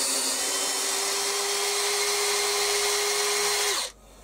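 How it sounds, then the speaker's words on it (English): A drill spindle on a Warco WM16B milling machine whirs at a steady high pitch for several seconds, loud and close, then winds down and stops abruptly. "I was concentrating on drilling, not filming."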